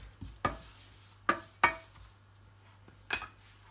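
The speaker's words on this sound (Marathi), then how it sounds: "तर आता मी त्याच्यामध्ये हे ओट्स थोडेसे गरम करून घेणार आहे।" Oats are dry-heated in a pan, a few light scraping and clinking stirs against the metal, spaced apart and fairly quiet.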